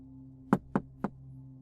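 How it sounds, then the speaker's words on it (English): Three sharp knocks on a door, evenly spaced and fairly close, over a faint low hum with no voices. "I heard a knock at my door"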